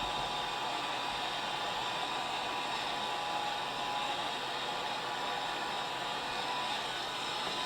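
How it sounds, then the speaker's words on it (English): A heat gun blows hot air over an encaustic wax picture, producing a steady, loud, unbroken rushing whoosh that holds at a constant level for the whole stretch, with no talking. "And then we'll heat it up, see what happens."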